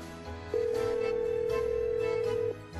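A phone rings with one steady electronic tone that holds for about two seconds, loud and close, with faint background sounds before and after.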